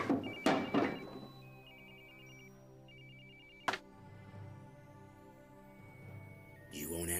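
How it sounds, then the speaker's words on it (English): A mobile telephone rings unanswered in three short repeated electronic trills, fairly faint over a low musical hum, with a single sharp thud between rings. "You won't answer your phone, Dr. Serpa."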